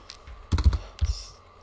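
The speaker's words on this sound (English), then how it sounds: "try and find a cheat where you just sort of mash the keyboard" Quick clusters of computer keyboard keys being mashed, two short bursts of clattering strokes close by, separated by a brief pause, with no talking.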